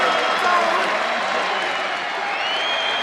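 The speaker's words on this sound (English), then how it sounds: "how about the roar of the crowd here?" A wrestling arena crowd roars and applauds in a standing ovation, a dense, loud, sustained wash of cheering and clapping with no pause.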